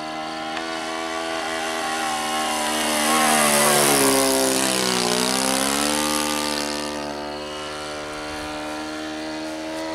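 A Saito 125 four-stroke glow engine on a Great Planes Super SkyBolt model biplane runs with a loud, steady buzzing drone, its pitch rising then dropping as the plane passes close and moves away.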